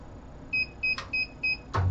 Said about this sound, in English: And you'll hear a series of beeps.